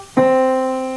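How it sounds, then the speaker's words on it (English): A piano chord is struck once and sustains cleanly, its rich tone decaying slowly, played alone and close. "You're gonna play what they call a 5-to-1 cadence."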